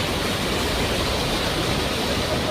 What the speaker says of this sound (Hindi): पहाड़ी नदी में गरजती लहरें बहने लगी।